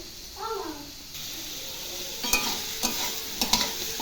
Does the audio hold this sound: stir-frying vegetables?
yes